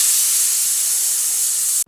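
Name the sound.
pressure cooker whistle releasing steam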